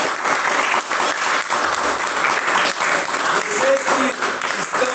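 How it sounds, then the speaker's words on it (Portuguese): A church audience claps steadily in loud, continuous applause for several seconds, dense and close. "e palmas para Jesus"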